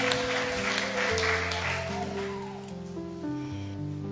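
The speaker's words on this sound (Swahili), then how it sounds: "Tumpigie Yesu makofi mazuri." A church congregation clapping for Jesus, a dense steady patter of many hands under sustained organ or keyboard chords that change pitch, continuing evenly for several seconds with no voices standing out.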